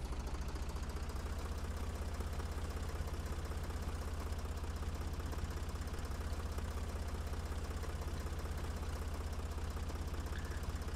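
A tractor engine in Farming Simulator 2014 idles with a steady low throbbing chug that stays even and unbroken throughout, fairly quiet and close.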